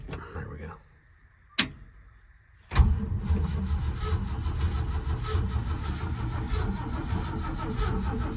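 A 1975 Ford F-250 Highboy cranks over in 3-degree cold: short bursts of whirring, a pause, then a loud continuous grinding crank that persists at close range without catching.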